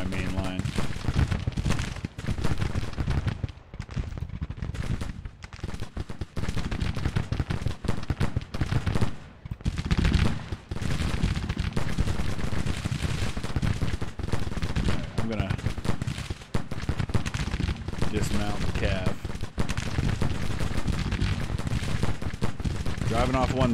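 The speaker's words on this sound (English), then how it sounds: "Actually, I'll get these skirmishers firing on a different battery." Continuous crackling volleys of skirmisher rifle fire mixed with booming artillery in a Civil War battle game, dense and sustained throughout with brief lulls, a voice talking over parts of it.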